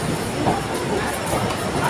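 A train at a station rumbles loudly and close with a broad, dense roar of wheels and carriages, steady for the whole short stretch.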